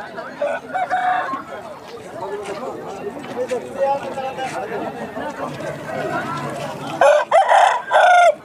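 An Aseel rooster crows loudly and close by near the end, after several seconds of busy crowd chatter and bird clucking at the Balrampur poultry market in West Bengal.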